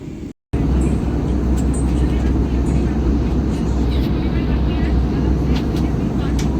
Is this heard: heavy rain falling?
no